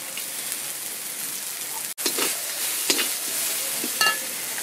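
Chopped green chili tossed into ginger and garlic already frying in a pan gives a steady, close sizzle with a few brief stirring clatters and a short dropout partway through.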